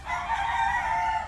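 Rhode Island Red chickens vocalizing while eating vegetables, a short close burst of clucking lasting just over a second, with no talk.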